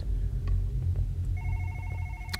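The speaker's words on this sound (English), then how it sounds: "Oh, no, it's my phone again." A phone rings in the horror video game One Late Night: a bright electronic ringing tone cuts in partway through over a low droning background rumble, clear and fairly close.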